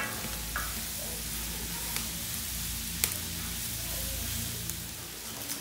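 Onion and garlic fry in a plough-disc pan over a wood-fired stove, giving a steady, loud, continuous sizzle with a few soft stirring scrapes and no talking.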